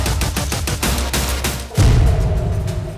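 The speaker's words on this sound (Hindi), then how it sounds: "हर ओर से विस्फोट की आवाज आने लगती है।" Rapid gunfire and explosions during a drone swarm attack on Israel's Harakia base: dense, loud bursts of automatic fire in quick succession, then a heavy low boom rumbling on beneath continuing shots.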